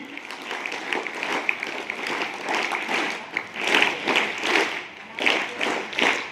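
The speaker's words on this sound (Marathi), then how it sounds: "टाळ्या वाजायच्या आहे." A school audience claps together at a Shivaji Maharaj birth anniversary celebration, repeated bursts of many hands in a rhythmic pattern, rising and falling in loudness across the room.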